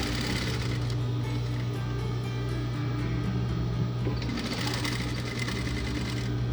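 A sewing machine runs continuously, stitching a seam on a decorative silky fabric cushion, with a steady loud whirring hum and a fast needle rattle, close up and without speech.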